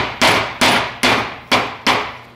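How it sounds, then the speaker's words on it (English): A hammer tapping a U-joint cap down on the front driveshaft of a 1994–2001 Dodge Ram 1500, five sharp, loud metallic strikes at an even rhythm, each ringing briefly. "And then with our hammer, we're gonna tap and tap down."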